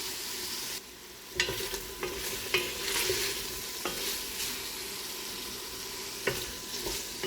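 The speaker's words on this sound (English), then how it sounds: "we're just going to put that sausage in there and brown it on both sides" Smoked sausage browning in a pan for gumbo, a continuous close sizzle with occasional sharp clicks and scrapes of a utensil turning the pieces, no voices.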